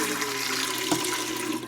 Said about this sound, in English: Figured I should rinse this out because sometimes spiders crawl into my pots and pans when I'm not looking.